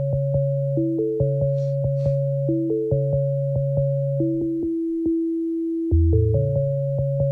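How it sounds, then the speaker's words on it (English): A wavetable synth plays a repeating MIDI melody in clean, bright, steady notes with rhythmic short stabs, a brief lower phrase near the end, with no voices. "The wavetable on its own sounds like this."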